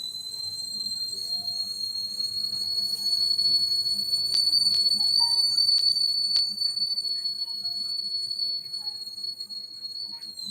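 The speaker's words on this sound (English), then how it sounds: "Bear with me. That's the kettle." A high, steady kettle whistle sounds continuously, shrill and unbroken, with a few faint clicks and soft background noise.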